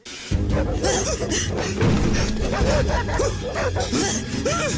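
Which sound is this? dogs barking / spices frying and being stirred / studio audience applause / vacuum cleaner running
dogs barking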